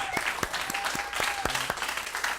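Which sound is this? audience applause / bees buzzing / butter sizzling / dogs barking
audience applause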